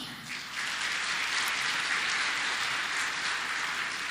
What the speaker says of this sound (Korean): 여러분, 한 분 한 분 소개할 때마다 큰 박수로 환영을 해주시면 고맙겠습니다.